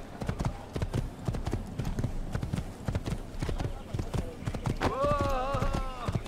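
Steady galloping hoofbeats from a horse ridden in Assassin's Creed, a fast repeating clip-clop throughout, with someone talking over it and a brief exclaimed voice near the end.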